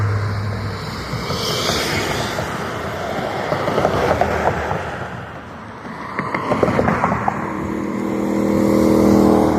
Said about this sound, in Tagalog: dumaan yung motor na paborito ko guys, yung big bike